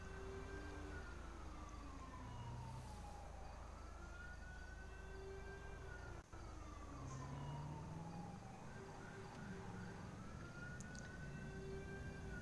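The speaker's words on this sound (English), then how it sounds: "Alright, I hear a siren." A state trooper vehicle's wailing siren rises and falls in long sweeps over a steady low engine rumble, loud and sustained.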